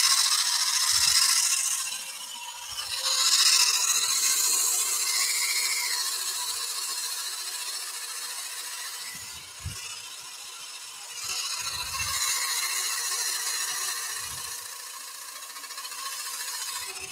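A hollowed wood piece is sanded by hand, with progressively finer grits of 150, 240 and 400. Soft, steady rubbing and scraping continues throughout, with a few faint knocks and handling sounds.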